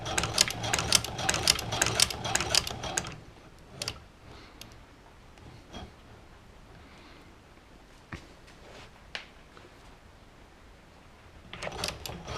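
A hand-cranked Chinese shoe patcher sewing machine stitches a tennis shoe, beginning with a rapid run of close mechanical ticks, then falling to scattered single clicks before another short burst of stitching near the end.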